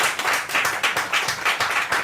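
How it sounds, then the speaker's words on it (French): Rhythmic, steady clapping from a church congregation, loud and close, with a regular beat of many hands and no voices over it. "On applaudit Seigneur pour sa vie."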